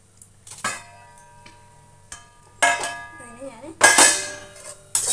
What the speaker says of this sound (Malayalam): വേറൊരു പാത്രത്തിലേക്ക് മാറ്റുക